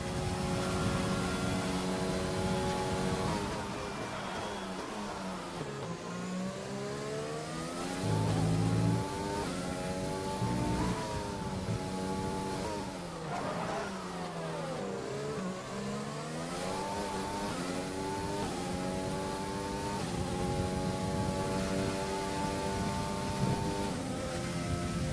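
Onboard engine of a race car in a sim racing game, on a fastest qualifying lap around Zandvoort in the eSports Masters Premier Series. Loud and continuous, it revs up through the gears with repeated downshifts and climbs.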